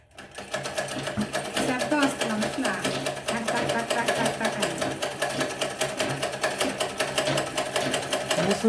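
A household sewing machine stitches fabric in a village home, running continuously with a rapid rhythmic clatter, close and fairly loud throughout, with faint talk underneath.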